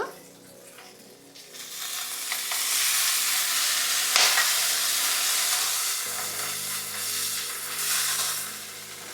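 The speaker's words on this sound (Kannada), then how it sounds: "ಇನ್ನೊಂದು 2 ನಿಮಿಷ ಬಾಡಿಸ್ಕೊಂಡ್ಬಿಟ್ಟು ಇದ್ರ ಜೊತೆಗೆ ಇವಾಗ ಇದು ಕೊತ್ತಂಬರಿ ಹಾಕಬೇಕು." Tomato and coriander chutney sautéing in a pan, a steady loud sizzle and hiss with occasional stirring, close up, no talk over it.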